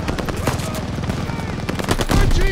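Rapid automatic gunfire rattles in Call of Duty Vanguard, a loud close burst of overlapping shots over battlefield noise, with voices calling out beneath it.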